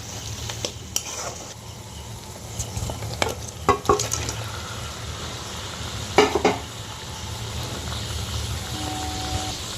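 Chicken pieces dropped into hot spiced oil for chicken do pyaza, giving a steady close sizzle and fry with occasional stirring scrapes and clinks of a utensil against the pan, no talking.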